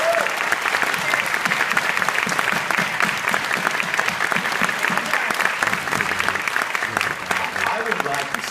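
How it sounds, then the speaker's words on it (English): A premiere audience at a Toronto documentary screening and Q&A applauds the film's producers, a loud, sustained round of clapping with some cheering voices mixed in, holding steady for several seconds. "If we could just give them a round of applause."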